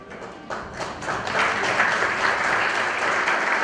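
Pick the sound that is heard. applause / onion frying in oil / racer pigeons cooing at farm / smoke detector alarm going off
applause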